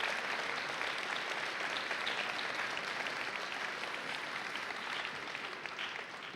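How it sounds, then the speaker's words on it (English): Audience applause fills a high school class day ceremony, a dense, steady wash of many hands clapping that holds at an even level throughout and tapers slightly at the end. "I think 1 round of applause is needed for them as well."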